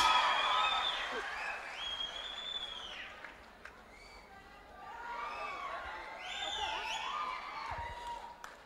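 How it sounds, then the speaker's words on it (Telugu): An audience at a Telugu film audio release event cheers to welcome performer Rakesh Arya onto the stage: a loud swell of crowd noise with shrill whistles and shouts, easing midway and then rising again. "గట్టిగా చప్పట్లతో తన్ని వేదిక మీదకి ఆహ్వానించండి"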